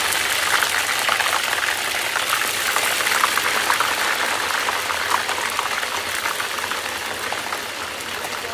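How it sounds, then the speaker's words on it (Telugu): Dense, continuous bubbling and crackling of peanut oil boiling vigorously and foaming up after paste is added, steady and close, with no voices. "పల్లి నూనె కాబట్టి పొంగుతుంది ఆయిల్ మొత్తం పైదాకు వచ్చేసింది"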